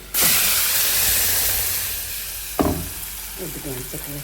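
Loud, steady sizzling of tempering spices frying in hot oil for bottle gourd tomato chutney, a sharp crackle partway through, with brief talking near the end.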